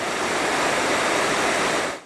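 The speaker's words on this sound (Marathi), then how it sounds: "पानवलचा हा धबधबा आहे 125 फुटावरनं या ठिकाणी हा कोसळणारा धबधबा" The Panval waterfall near Ratnagiri in the Konkan, swollen by monsoon rain, drops about 125 feet with a loud, continuous roar and rush of water heard close by.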